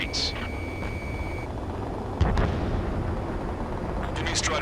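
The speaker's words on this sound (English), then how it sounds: "Gunfire and the roar of jets echoing through the streets." Gunfire and jet roar fill a city under martial law in the video game Ace Combat 7, a heavy rumbling roar broken by a sharp close blast, with a voice talking over part of it.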